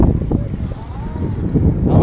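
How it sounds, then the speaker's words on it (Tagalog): Wind gusting outdoors at Highlands Park in Legazpi, Bicol: a loud, steady low rumble buffeting the microphone, heard alone. "Sarap ng hangin."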